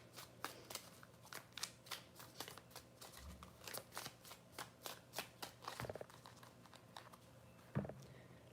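Tarot cards shuffled by hand in a series of quick, crisp riffles and flicks, close and quiet, with no talking.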